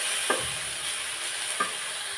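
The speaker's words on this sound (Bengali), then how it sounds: "এখন দিয়ে নারকেলটা আমি গোল্ডেন কালার করে ভাজি করে নেব।" Grated coconut and sugar are fried and stirred in a pan. A soft, steady sizzle runs throughout, with two brief spatula scrapes close by and no voices.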